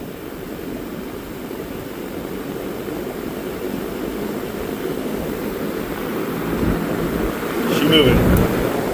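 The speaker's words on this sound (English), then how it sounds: "Pushing a lot of air out the side without that shroud on." An electric motor spins a fan with its shroud removed, blowing air out the side in a steady, close whooshing roar that swells slightly toward the end, with a brief clatter near the close.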